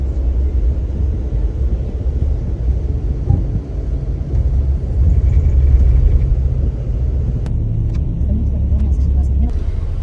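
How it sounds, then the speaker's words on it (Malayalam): A sleeper bus with AC pulls away on a trip in India, its engine a steady, loud low rumble with road noise building slightly midway, continuous throughout, with faint voices in the background. "ബസ് യാത്ര പുറപ്പെട്ടു കേട്ടോ."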